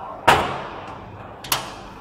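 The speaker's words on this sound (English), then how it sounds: "Oh, close the door." The door of a 1 kW fiber laser welding machine shuts with a sharp bang, followed a little over a second later by a second, lighter knock of the door settling closed.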